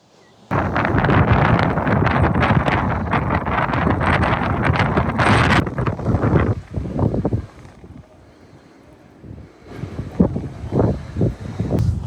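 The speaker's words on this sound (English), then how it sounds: "It's too windy." Strong gusty wind on a steep hillside batters the microphone with loud, rumbling buffeting that rises and falls in bursts, easing off briefly before gusting again.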